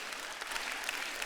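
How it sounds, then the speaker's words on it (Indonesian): A church congregation gives a short burst of soft, evenly textured applause at a distance, with no voices over it. "Pas ini pas tepuk tangannya."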